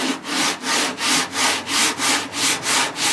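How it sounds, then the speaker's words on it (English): Body filler on car bodywork being hand sanded diagonally with a flat sanding block: about nine steady back-and-forth rasping strokes, close and loud, in an even rhythm with no talking. "So sand like this diagonal, then sand the other way, diagonal."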